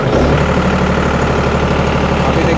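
A tractor engine runs after a cold start following fifteen days of sitting, a loud, close, steady diesel chug with a rapid even knocking pulse and no talking over it.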